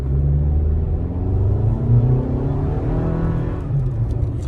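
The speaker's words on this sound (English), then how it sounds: "Yeah, the engine is the engine is pretty loud for what it is." A 2021 Toyota RAV4 Adventure SUV engine revs and pulls steadily uphill from a dead stop, its pitch rising gradually, loud and close throughout with no talking.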